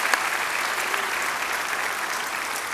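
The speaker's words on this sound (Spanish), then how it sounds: "would you let's put your hands together?" A church congregation applauds to welcome a speaker making his way up to the platform, a steady wash of clapping that holds evenly throughout.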